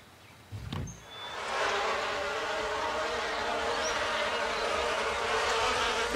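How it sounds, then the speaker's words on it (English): Cartoon bees buzz in a steady, dense drone that swells in after a brief rustle and holds loud and continuous for several seconds, with no talk. "I'm totally safe from the bees."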